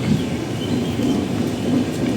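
Kanyakumari Express pulling into Paravur railway station, a loud steady rumble of wheels and carriages rolling close by without pause, with no voices.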